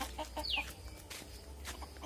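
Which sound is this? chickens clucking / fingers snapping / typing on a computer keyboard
chickens clucking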